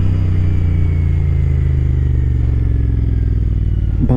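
Heavy wind buffeting roars over a motorcycle ride in cold weather, loud and continuous with a low engine drone beneath it, and no voices.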